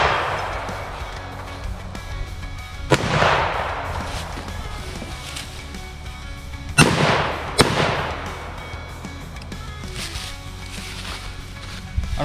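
Gunshots fired while running a shooting course with a Romeo 5 red dot sight: two sharp loud reports at about three and seven seconds, a third soon after and more late, each followed by a decaying echo over steady outdoor background.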